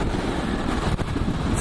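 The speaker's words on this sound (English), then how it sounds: "I just didn't expect for the wind to be so crazy" Strong wind buffets the microphone on a mountain trail, a steady loud broadband roar with gusty rumble throughout and no voices.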